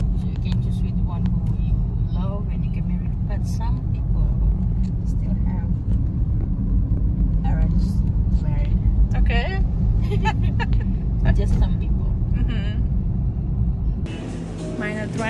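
A car in Bali idles and pulls away, a steady low engine rumble running throughout beneath people talking nearby.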